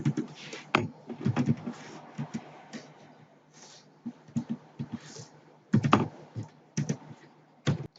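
Keys tapped on a computer keyboard while PHP code is entered, in irregular bursts of close clicks with short pauses between them, no talking.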